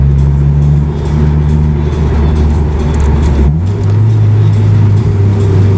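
A 1991 Toyota Celica GT-R, front-wheel drive, heard from the passenger seat while driving: a loud, steady engine drone that shifts pitch about halfway through as the car changes gear, with road noise underneath.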